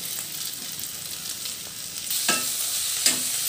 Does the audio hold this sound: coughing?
no